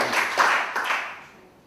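Seminar attendees in a hall give a short round of clapping that is dense at first and fades out within about two seconds.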